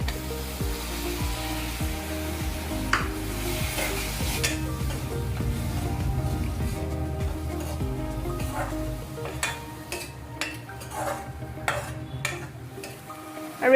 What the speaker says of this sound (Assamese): এতিয়া দালিখিনি মই অলপমান ভাজি ল'ম।